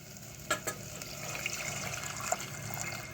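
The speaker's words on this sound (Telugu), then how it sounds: "పెరుగు ఇక్కడ డైల్యూట్ చేసుకున్న పెరుగు వేసేద్దామండి" Diluted curd pours into a hot cooking pan for buttermilk curry, bringing a soft wet splash and a steady sizzling hiss, with a couple of clinks near the start, close up and without talk.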